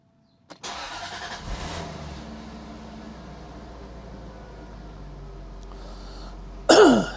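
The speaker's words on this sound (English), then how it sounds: "So now I'm going to start the engine" Jaguar XK8 engine starting: a brief starter crank gives way to a steady, low engine idle that holds for several seconds, with a faint click and a sharp clatter near the end.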